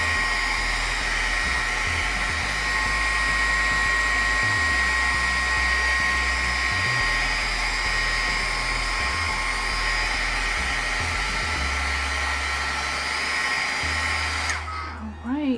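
A heat gun melts embossing powder on a craft project, blowing a loud, steady whirring hiss that holds for several seconds, then cuts off abruptly near the end.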